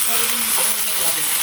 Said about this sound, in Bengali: তো আলু আর কচু তেলে ভেজে দেবেন আপনি।